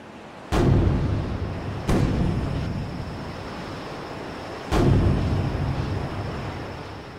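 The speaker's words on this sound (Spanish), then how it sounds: "¡Son 3 cañonazos!" Three booming cannon shots, each a sharp blast followed by a long rumbling decay, spaced unevenly over a steady roar of wind and surf.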